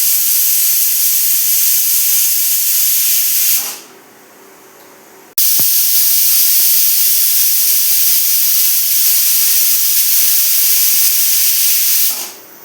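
Pressure cooker steaming potatoes with salt and a little water for a Kerala-style potato curry: a loud, steady hiss of escaping steam that cuts out briefly around the fourth second, resumes, then stops near the end.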